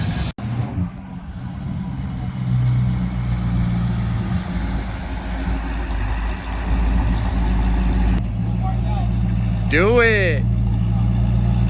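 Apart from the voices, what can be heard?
1963 Ford Fairlane engine running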